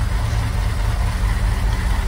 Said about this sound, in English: So this has been idling now.